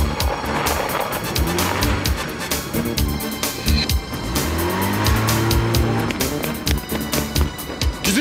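A taxi car drives away on a street, its engine revving and shifting pitch with tire noise and passing traffic. The sound is loud and close, with sharp clicks and bumps throughout.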